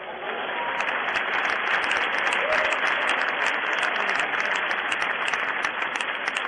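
A church congregation claps in steady, sustained applause, a dense, even patter that holds at a moderate level throughout with no voices over it.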